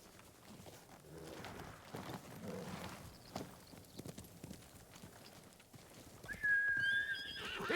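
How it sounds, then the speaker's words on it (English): Hooves clopping and a horse whinnying in the video game Ghost of Tsushima, irregular hoofbeats for several seconds ending in a loud, high neigh near the close. "Onward, horse!"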